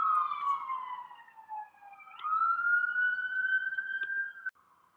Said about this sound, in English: you can probably hear a fire engine siren in the background